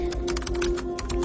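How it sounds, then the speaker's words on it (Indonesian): Fingers tapping quickly across computer keyboard keys in an office, a fast run of close, light clicks over a steady low hum. "Jari-jariku mulai menekan huruf-huruf yang ada di keyboard"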